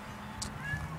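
A cat gives a short, faint meow indoors, a single brief call against low room hum.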